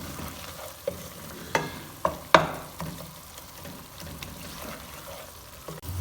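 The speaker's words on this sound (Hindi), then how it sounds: "मसाले की अच्छी तरह से भुनाई करेंगे ताकि इसके अंदर का सारा पानी ड्राई हो जाए" A tomato spice masala stir-fries in a pan with a low, steady sizzle, broken by several sharp clacks of a utensil scraping and stirring.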